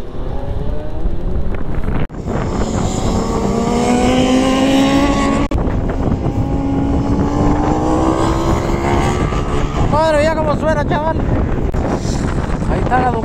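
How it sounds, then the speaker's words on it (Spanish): A Ducati motorcycle passes by on a very windy day, its engine note rising and sweeping through under heavy wind buffeting, with a person talking over it. "Chaval, ahí está la Ducati."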